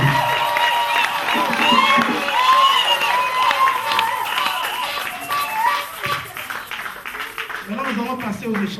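Wedding guests at a church ceremony cheer and clap in a lively, sustained burst, with scattered voices calling out over the applause and a quieter murmur toward the end.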